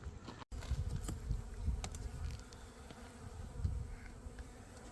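Honeybees buzz around a hive during spring cleaning, a faint, low, wavering drone with individual bees passing close now and then.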